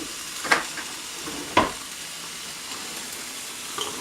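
Onions and apples fry in a pan with a steady, close sizzle, and two sharp stirring scrapes break through near the start.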